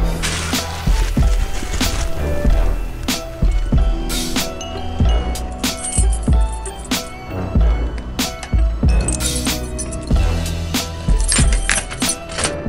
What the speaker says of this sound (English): Can't even remember which keys to use.